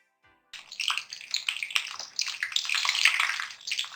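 Coated chicken butterfly pieces with potato frying in hot oil over medium heat, a bright, dense sizzle that starts abruptly after a brief silence and crackles steadily close by.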